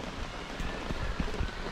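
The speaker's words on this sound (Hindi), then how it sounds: "अभी बारिश आ रही है" Steady rain falls in a continuous broadband hiss with scattered heavier drop patters, fairly close and without talk, during an outdoor walk home.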